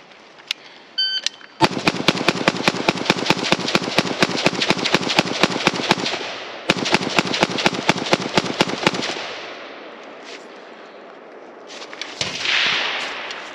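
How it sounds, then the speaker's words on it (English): A Palmetto State Armory AK rifle empties a full magazine in rapid, evenly spaced shots, loud and close, with a short pause in the middle before the string resumes and ends, then faint handling noise. "Let's just mag dump the whole thing."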